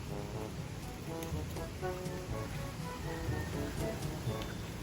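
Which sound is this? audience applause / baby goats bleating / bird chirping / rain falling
rain falling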